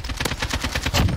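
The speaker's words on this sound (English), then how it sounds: "Beam him with the AK." Rapid automatic AK rifle fire in Call of Duty Warzone on Rebirth Island, a quick burst of about eight sharp close shots in fast even rhythm.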